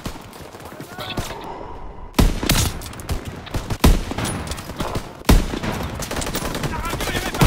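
Dense, loud video-game gunfire in a war scene: sustained automatic bursts broken by several sharp, heavy blasts, continuing with no speech.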